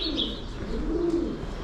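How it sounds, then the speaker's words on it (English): Local pigeons nest up in the rafters and beams and give soft, low cooing calls. One drawn-out coo stands out, with a brief higher chirp over steady background noise. "Seems to be where all the local pigeons come to live."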